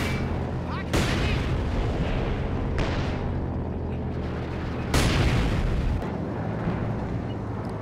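M8 Scott artillery barrage in Company of Heroes 2, with loud, rumbling shell impacts landing in several heavy bursts over a continuous battle din.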